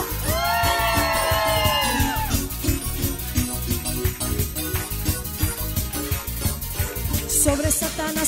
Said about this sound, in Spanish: ¡Dale un fuerte grito de júbilo!